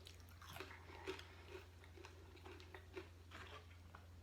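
Crispy pork belly, oven-baked and then fried, being chewed close up: faint, soft crunches and bites recur every half second or so over a low steady hum, with no talking.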